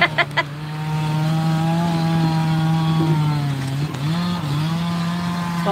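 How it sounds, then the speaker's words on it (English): A chainsaw running steadily near a steam traction engine show, a loud continuous buzzing drone with slight pitch wobbles, preceded by a few sharp clanks at the start. "Sounds like somebody's running a chainsaw."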